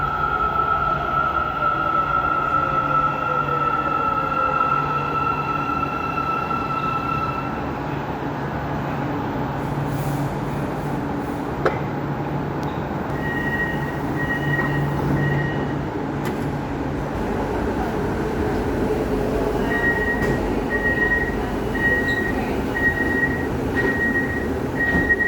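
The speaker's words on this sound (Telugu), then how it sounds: "ట్రైన్ వస్తుంది." A metro train pulls into a station in Malaysia, with a steady rumbling roar, high-pitched whining tones and intermittent beeps as it comes in and slows.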